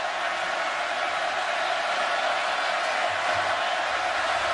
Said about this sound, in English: Crowd getting louder now.